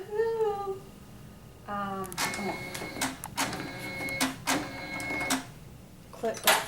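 A Janome MB4 embroidery machine runs after its DC motor was replaced, giving a rhythmic mechanical whir with repeated stitching pulses and bursts. A voice speaks over the start of the machine sound.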